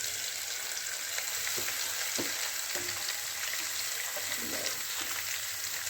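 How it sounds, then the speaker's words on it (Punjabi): An onion and capsicum mixture fries in a pan with a steady hissing sizzle, dotted with small pops and light clicks of stirring. "ਹੁਣ ਆਪਾਂ ਪਾਵਾਂਗੇ ਜਿਹੜਾ ਪਿਆਜ਼ ਤੇ ਸ਼ਿਮਲਾ ਮਿਰਚ ਦਾ ਮਿਕਸਚਰ ਹੈਗਾ"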